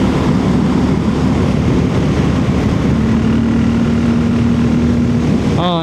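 A dirt bike engine with a Dynojet kit installed and the spark arrestor pulled from the muffler runs steadily and loudly close by, a constant droning roar with a faint rising whine near the end.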